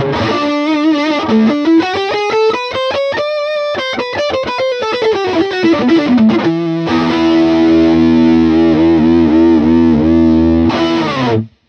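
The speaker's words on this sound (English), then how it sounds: "So there it is, the Greg Fryer Treble Booster Special" Electric guitar lick played through a Greg Fryer Treble Booster Special, loud and continuous with bright, driven distortion, bending sustained notes and a final held chord that cuts off abruptly; no talking.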